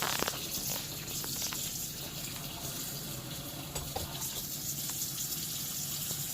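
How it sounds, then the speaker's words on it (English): Water runs from a tap into the drain of an RV camper as a steady, close, continuous rushing hiss with small splashy flickers, no voices over it. "I'm going to turn the water on right there."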